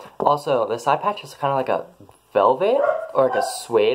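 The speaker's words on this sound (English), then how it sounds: "sorry for my dog barking" A dog barks and yips in the background, partly masked by a person talking steadily close to the microphone.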